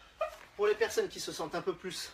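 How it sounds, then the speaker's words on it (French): A dog yips and whimpers in short bursts close by, over someone talking throughout during an indoor home workout session. "C'est le chien qui fait des siennes."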